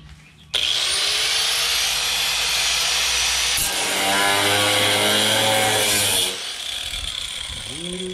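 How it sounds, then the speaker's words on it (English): An angle grinder cuts into metal on a beach buggy build, starting abruptly with a loud, sustained high whine that deepens under load midway through, then eases off and cuts out near the end. "We're gonna grind that."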